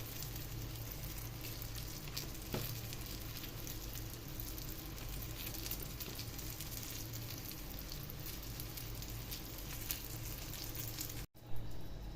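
Eggplant slices topped with cheese fry in a pan, giving a steady, close crackling sizzle that holds evenly throughout, broken by a brief clatter near the end.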